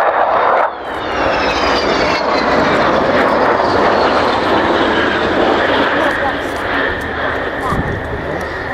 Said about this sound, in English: I was saying there's Rolls-Royce Bristol Olympus engine